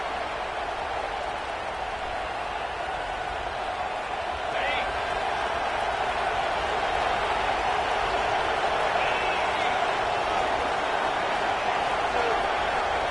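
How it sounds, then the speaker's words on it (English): A roaring football stadium crowd during a Tennessee Vols versus Oregon Ducks game, a loud, steady wash of noise throughout with a commentator talking over it. "with this place rocking, the crowd forces a false start"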